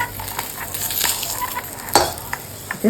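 Pointed gourd (potol) frying in a pan gives a close, busy sizzle with quick spatula scrapes and knocks, including a sharper clatter near the two-second mark.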